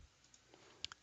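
A computer mouse clicked while entering data, a couple of tiny, sharp clicks close together near the end of a short, very quiet stretch.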